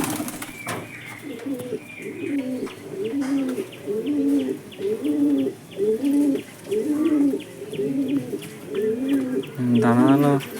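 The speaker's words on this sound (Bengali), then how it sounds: "এই যে পায়রা উঠে গেল, ব্যাস হাইট নিয়ে নেবে।" Two pigeons, both males, coo in a steady series of low, rounded calls repeated about once a second, close and clear over a soft background, with a brief burst of flapping wings near the end.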